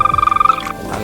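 A toad gives a fast pulsing trill, a steady rapid rhythm lasting about three quarters of a second, loud and alone.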